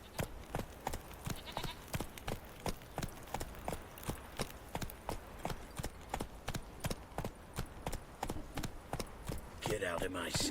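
Roach's hooves drum in The Witcher 3, a regular galloping clip-clop that repeats evenly and sits close, moderately loud, with brief voices near the end.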